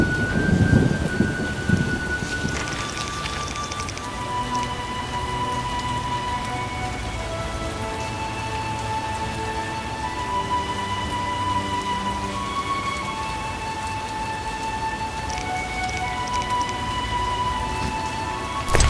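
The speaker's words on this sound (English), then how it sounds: "It rains and it pours." Rain pours down steadily in a stormy video game scene, a dense, even hiss of falling water broken by a thunder rumble at the start, with faint tonal game sounds layered under it and nobody talking.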